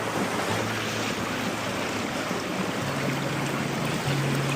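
Constant rushing of river water, a broad steady roar filling the scene with no pauses, close and fairly loud.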